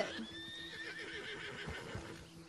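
A horse whinnying in Red Dead Redemption 2, a clear drawn-out neigh with a wavering pitch and soft hoof-like thuds beneath, fairly near, with little talk.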